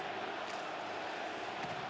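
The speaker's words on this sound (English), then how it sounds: "Wow, they're really cheering for this kid." Crowd in a hockey arena cheering for Demidov, a steady, distant roar of many voices filling the space without letup.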